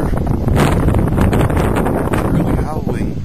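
Loud, blustery wind from a windstorm in Edmonton, Alberta, buffets the microphone in a continuous roar, with rustling and rumbling gusts up close.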